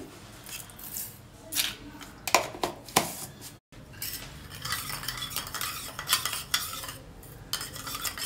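A spoon stirs a small mixture of sesame oil and sugar in a bowl, giving repeated scraping and clinking strokes with brief pauses, close and fairly quiet, without any voice.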